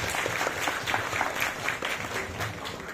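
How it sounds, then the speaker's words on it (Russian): A crowd applauds at a school graduation ceremony with medals and certificates, giving a moderate, continuous patter of many hands clapping at mid distance. "Еще раз аплодисменты."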